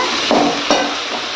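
Ginger garlic paste fries in a hot pan while being stirred for a Tamil intestine fry and curry, a steady close sizzle broken by two brief scraping stir strokes, with no talk.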